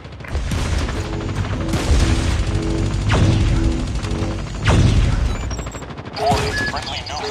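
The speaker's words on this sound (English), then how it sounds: "Friendly nuke has been launched." A Call of Duty nuke killstreak launches amid loud game combat: repeated deep booms and sweeping whooshes with mechanical clatter and bursts of gunfire, with brief voice fragments mixed in.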